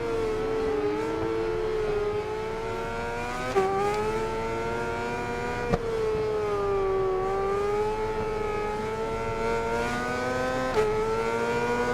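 In RIDE 4 at Daytona, a racing motorbike engine holds a high, buzzing whine. Its pitch rises and dips through the gears with brief shift blips, steady and close, with no voices.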